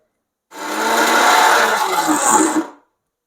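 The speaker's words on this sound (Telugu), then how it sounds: "ఇలాగే మనము మిగతా పప్పును కూడా గ్రైండ్ చేసుకోవాలి" A mixer grinder grinding lentils into batter whirs loudly for about two seconds, then cuts off, with no talking over it.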